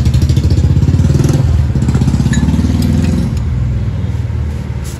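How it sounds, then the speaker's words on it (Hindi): A VW Polo 1.2 petrol engine is turned over in a mechanic's workshop, giving a loud, steady, dense mechanical rumble that runs throughout and eases slightly toward the end, with no talking. "इसका पूरा इंजन घुमाना है"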